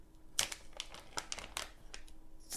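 A Ziploc baggie of food-grade activated charcoal crinkles in short, quiet bursts of plastic rustling, close by and fairly soft.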